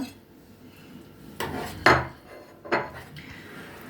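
Ground pork cracklings and onion being mixed into minced liver for a liver and buckwheat sausage, with a spoon scraping and clinking against the bowl in a few distinct strokes, close and fairly quiet.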